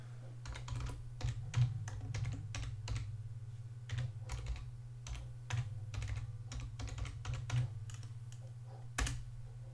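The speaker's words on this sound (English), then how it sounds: "I'll type it for you." Clicking on a computer keyboard, a rapid, uneven run of close, crisp keystrokes over about ten seconds with short pauses between bursts, set against a steady low electrical hum.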